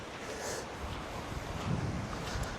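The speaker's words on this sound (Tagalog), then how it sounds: "Lakas ng hangin." Steady, blustery sea wind at a beach campsite rushes and buffets against the microphone, a constant broadband roar with no voices.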